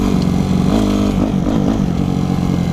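Yamaha YZF 250 motorcycle engine revving hard with the rear wheel spinning, a loud close rising and falling rev with no talk.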